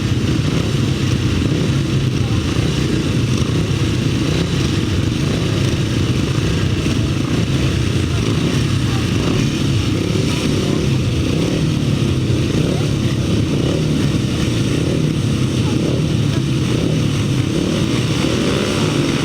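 Solo grasstrack motorcycles race the upright solo final at the 2007 Ledbury Leader meeting, a loud, continuous engine roar that rises and falls for the whole stretch, with a crowd-wide rumble and no pauses.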